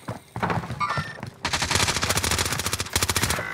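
Heavy automatic gunfire on Rebirth Island in Call of Duty Warzone, with sniper fire among it: a short burst, a pause, then a long rapid run of loud close shots.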